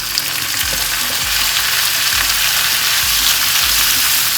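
Chopped tomatoes go into a pan of sizzling onion, ginger and garlic, giving a loud, steady close-up fry with a few soft stirring knocks through it.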